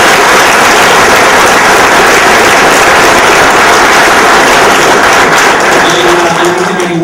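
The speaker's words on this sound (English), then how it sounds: "let's everyone in the room give a big round of applause to Robert for becoming one of the newest partners" Audience applause fills a room at a Baltimore Comic Con panel, a loud, dense, steady wash of clapping sustained throughout with no break.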